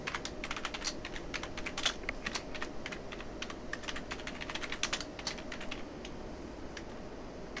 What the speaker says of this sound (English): there's real lag in typing as well.